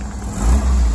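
A Mini Cooper S engine at an exhibition revs briefly, a loud, close, steady mid-pitched growl that swells slightly before settling, with no voices over it.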